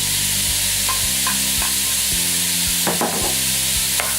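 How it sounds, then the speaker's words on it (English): Ground beef and cabbage seasoned with white pepper, salt and onion sizzle steadily in a frying pan while being stirred, a constant loud hiss with scraping utensil strokes, no talk. "and give that a stir."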